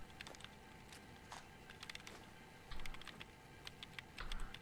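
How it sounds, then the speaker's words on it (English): Robobrains type at computer keyboards inside a Fallout 4 vault, a quiet irregular clatter of keystrokes in short bursts and flurries over a low room hum, with no voices. "A bunch of robo-brains doing some typing."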